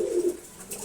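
A single pigeon gives one low, soft coo up close, a brief throaty call that fades into quiet room noise.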